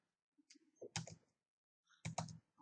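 Typing on a computer keyboard at close range: a few soft scattered keystrokes followed by two short clusters of clicking keys in a quiet room.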